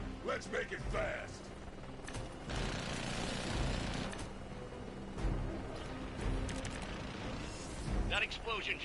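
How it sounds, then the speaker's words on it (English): Rumbling blasts and mechanical bursts from the video game Marvel's Midnight Suns, layered under ongoing speech and busy background noise. "That explosion just shorted out half our system."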